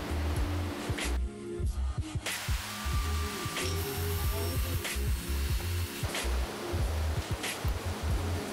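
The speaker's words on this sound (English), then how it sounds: "So I'm just cutting out the profile of the axe handle on a bandsaw here." Bandsaw cutting the profile of a mahogany axe handle in a workshop, a steady close motor whine with broadband grinding of the blade through hardwood continuing throughout, with brief changes in tone as the cut proceeds.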